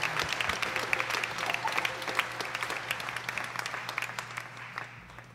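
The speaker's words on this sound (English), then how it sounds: "let's give them a round of applause just for being so good" A concert audience at a world music percussion ensemble performance applauds, with a steady, fairly distant patter of many hands and a faint low hum beneath, slowly tapering toward the end.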